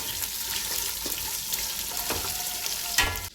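Ginger garlic paste frying in a pan while making biryani: a steady broadband sizzle with a few brief clattering stirs and a sharp scrape near the end, close and moderately loud.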